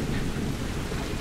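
Steady rain and rumbling thunder from a wet, cold outdoor scene in The Last of Us video game, a dense continuous wash of noise with no breaks over the brief stretch.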